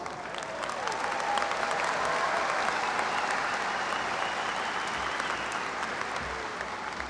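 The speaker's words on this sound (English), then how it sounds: "Please give them all a big round of applause." Sustained applause from a large audience at a fall university commencement ceremony at Texas A&M University-San Antonio, a steady dense clapping that swells slightly and holds throughout without speech.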